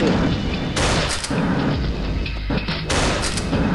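Rapid gunfire from the mobile shooter game Pixel Gun 3D, a dense continuous barrage of shots and booms with repeated bursts, loud and close throughout.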